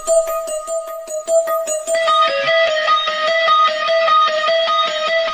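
A synth melody plays dry without any guitar amp effect, bright plucked notes in a quick repeating pattern that thickens into sustained layered tones, loud and alone.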